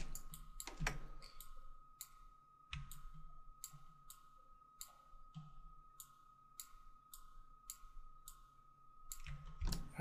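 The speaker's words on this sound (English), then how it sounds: "I'm just going to control, click, and drag just to make a bunch of copies" Mouse clicks sound in quick irregular bursts while cubes are copied in Cinema 4D, crisp close ticks spaced through a quiet room with a faint steady hum underneath.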